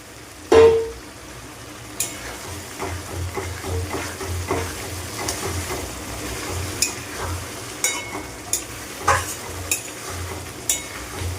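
Yam pieces for a vegetable curry sizzle and fry in a pan, with a loud clatter as they go in, then steady frying under repeated stirring scrapes and taps.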